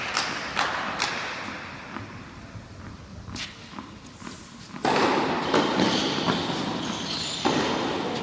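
Tennis balls thumped from the back of the court in a professional women's match between Emma Raducanu and Katie Boulter, a series of dull hits and bounces heard at a distance, with a louder burst of crowd noise partway through.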